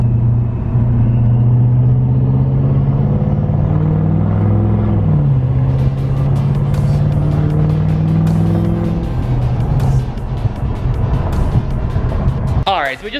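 An L5P diesel pickup fitted with an S369 SXE turbocharger drives along, its engine giving a loud, steady close-up drone with a rising tone, a continuous heavy rumble throughout.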